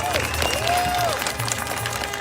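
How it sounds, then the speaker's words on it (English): Applause and crowd noise fill a rally outdoors in Ottawa, steady and close, with a voice calling out over it and whistle-like tones rising above it. "une bonne main d'applaudissement!"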